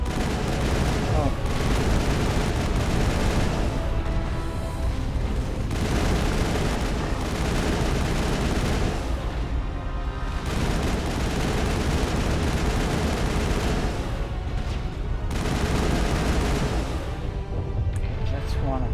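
Sustained gunfire roars through a Mass Effect firefight, dense rapid bursts and booming shots running almost continuously with brief lulls, loud and close, while voices talk over the battle.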